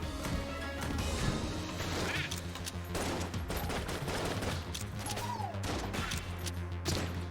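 Weapon fire in Enter the Gungeon, played in rat form: a dense run of crashing, rapid shots and impacts, irregular bursts layered over a steady low game music drone, fairly quiet overall.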